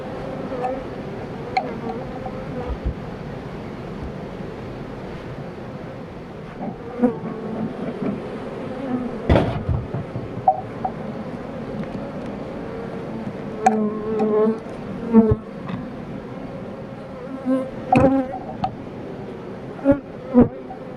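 Honeybees swarm and drone around a hive as it is smoked, a continuous close buzzing with scattered knocks and brief bursts, a faint voice now and then beneath it.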